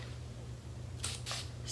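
Aphogee protein treatment sprayed onto hair from a pump bottle: a few short hissing spray bursts, close and fairly loud, against a low steady hum.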